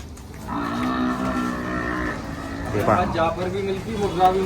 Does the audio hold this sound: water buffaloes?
yes